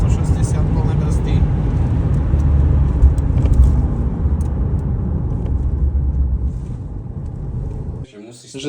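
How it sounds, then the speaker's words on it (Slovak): A Mercedes-Benz W211 on a German autobahn braking hard from 160 km/h, with loud road and wind roar rumbling inside the cabin that slowly fades as the car slows. People talk over it. "160 plné brzdy."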